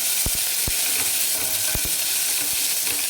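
Fresh curry leaves, four green chillies and crushed garlic sizzle and crackle in hot oil, a steady bright frying hiss punctuated by sharp pops and a few knocks of a spoon against the pan.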